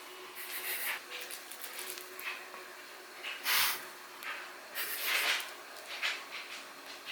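A dog sniffs and snorts near bacon in a quiet room, irregular short breathy bursts and nasal snuffles, close and faint, with a few louder puffs in between.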